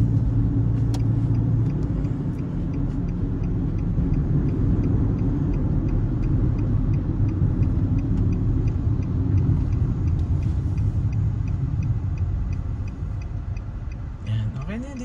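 A car's engine rumbles steadily and close while it is being parked, a low continuous drone under some background noise throughout.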